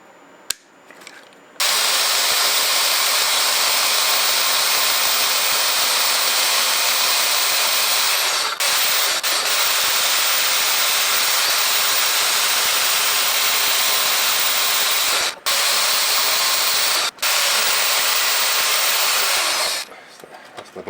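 Saw cutting stock for a tangential diamond tool holder, a loud continuous harsh rasping drone lasting most of the stretch, broken by a few brief pauses before it stops.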